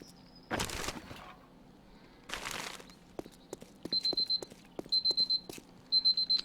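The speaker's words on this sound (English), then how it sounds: "Alright, that is my timer going off" A timer alarm goes off in repeated short beeping bursts, growing steadily louder over soft clicks and knocks after two earlier whooshing noises, with no speech.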